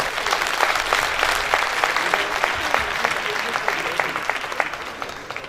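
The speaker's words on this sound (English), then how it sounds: "Can we clap to ourselves?" People at an annual general meeting applaud themselves with steady, moderately loud clapping, individual sharp claps standing out within a dense, continuous round.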